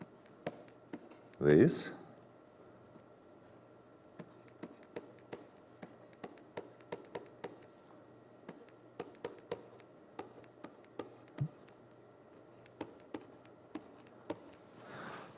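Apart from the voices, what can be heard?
writing on a board during a lecture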